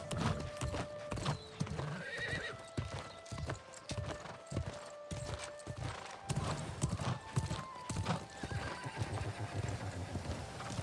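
A horse in the game New World: Aeternum trots with rapid, even hoof clip-clops, fairly faint, with a whinny rising partway through.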